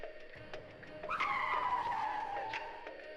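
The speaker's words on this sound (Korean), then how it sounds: "타이어의 비명이 귀를 때렸다" Car tires screech in a rising, then slowly falling skid that lasts nearly two seconds and stands out sharply over a faint background.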